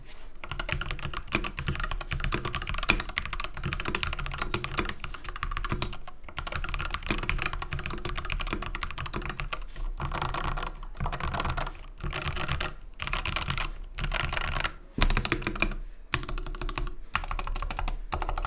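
Steady, close-up typing on a modded Wooting 60HE mechanical keyboard: a continuous stream of crisp clacks with a few short pauses, no talking.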